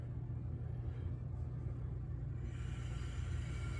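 Spectrum Acela model train cars dragging and scraping around a tight curve, a steady loud low rumble with grinding texture throughout, brightening with more high hiss near the end.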